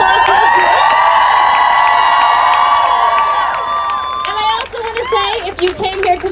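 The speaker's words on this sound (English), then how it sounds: "So let's give a big round of applause to those groups." A protest rally defending Roe v Wade in front of the Supreme Court, where the crowd lets out loud sustained whoops and cheers, then breaks into scattered clapping and shouts as the cheering fades.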